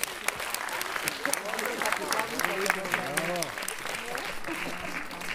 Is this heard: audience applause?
yes